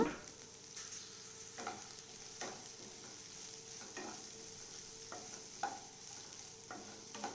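Two medium-sized chopped onions sautéing in a pan for chaat masala poori, a low steady sizzle broken by repeated scraping strokes of a spoon stirring at an uneven rhythm, heard close with no talking.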